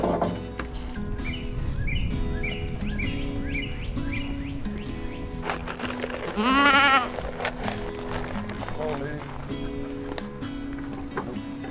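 Baby goats bleat in a rapid series of short, wavering cries through the first few seconds, followed by one louder, longer bleat close by and a few fainter calls later, over a steady outdoor hum.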